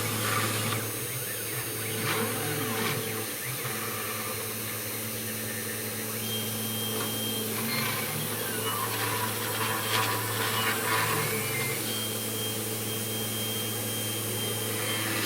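A DIY mini CNC machine's spindle slowly cuts plywood with a steady whine and a low hum, while the bit rasps and grinds through the wood in uneven bursts. It stays close and fairly loud throughout.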